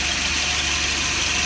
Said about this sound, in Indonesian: Kalau kebesaran seperti ini, teman-teman, kita kecilkan lagi. Nah, dia akan stasioner ya.